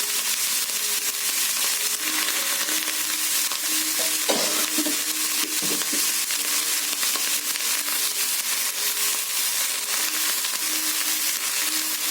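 Brinjal chutney with a pinch of salt being stirred in a frying pan, a steady close sizzle and frying hiss throughout with occasional scraping strokes of the spoon against the pan, no voices.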